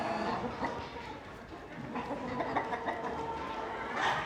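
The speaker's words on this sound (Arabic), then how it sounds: "هذا دجاج ميريكاني" American-breed chickens clucking amid a noisy farmyard, with several overlapping cackles and clucks at moderate distance over a steady rustling background.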